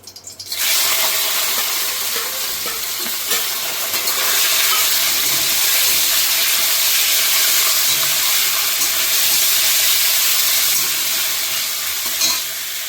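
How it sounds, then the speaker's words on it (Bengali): Chicken pieces drop into a hot pan and stir-fry for egg chicken fried rice, a loud, steady close sizzle that starts abruptly and continues for about twelve seconds with faint stirring scrapes. "এটাতে আমি দিয়ে দেবো এবার চিকেনটা।"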